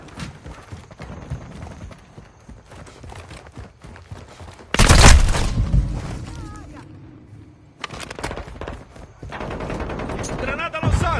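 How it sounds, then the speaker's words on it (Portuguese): Gunfire bursts from a Call of Duty Modern Warfare 2 multiplayer match, with a loud explosive blast partway through and scattered shots and combat noise throughout, under voiced game chatter. "Ai, cara, tô levando tiro."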